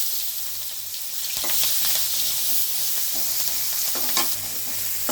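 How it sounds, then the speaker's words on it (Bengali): Chopped onion and green chilies frying in a pan after cumin seeds, with a steady hiss of sizzling oil and clattering stirring strokes throughout, close and fairly loud. "এখন দিয়ে দিচ্ছি পেঁয়াজ কুচি আর কাঁচামরিচ।"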